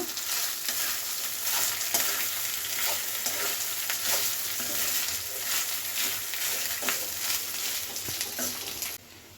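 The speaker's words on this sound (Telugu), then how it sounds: "రైస్ వేసుకుని బాగా కలిపేసుకుందాము" Cooked rice is stirred into a sizzling tempering with curry leaves in a pan, a dense continuous hiss broken by soft scraping strokes, stopping abruptly at the end.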